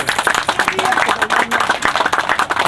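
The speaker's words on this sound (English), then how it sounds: "Diane, give her a round of applause too." An audience at a high school groundbreaking ceremony gives a round of applause, close, dense clapping that carries on steadily, with voices mixed in.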